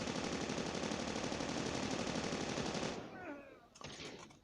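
Sustained rapid automatic gunfire in a shooting video game, a dense unbroken burst lasting about three seconds, then cutting off to quieter rattles and faint speech.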